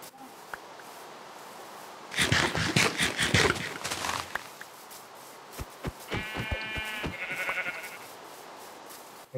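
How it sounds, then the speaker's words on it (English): Minecraft sheep bleat in short bursts amid game-like thuds and scraping steps, loud at first, then a second bleat later on. "Hey, don't be murdering all the sheep."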